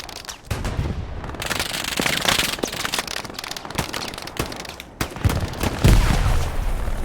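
Chaotic rapid bursts of gunfire and crackling blasts from a competitive match, including a grenade explosion, loud and dense throughout with a heavier thump near the end.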